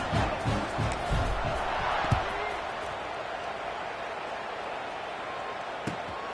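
Football stadium crowd roaring around a kickoff, a broad, loud wash of cheering and shouting with a few thuds early on, then settling into a steady murmur under a commentator's voice.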